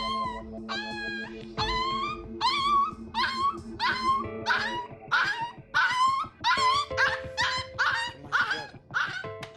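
A young abandoned puppy, sick after eating sand, whimpers and yelps in a rapid series of high, rising cries, close up, over a faint steady hum.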